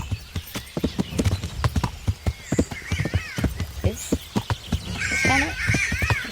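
A horse gallops in the video game Kingdom Come: Deliverance, rapid thudding hoofbeats in a driving rhythm, with crows cawing and a horse whinnying over the top.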